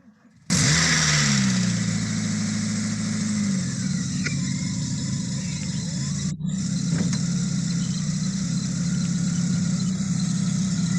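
A Volkswagen Golf MK2 engine cranks and catches after a brief pause, then settles into a loud, steady idle with a couple of rising revs, close and continuous throughout.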